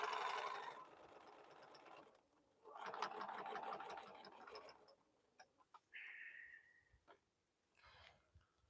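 Bernina sewing machine stitching fabric bowl cozies in bursts: a steady mechanical whir runs, pauses, then runs again, followed by a few clicks and a short whine at the end.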